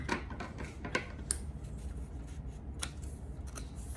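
Scissors cutting a toilet paper tube, a few sharp close snips and crisp cardboard crunches in quick succession, fairly quiet, with no talking.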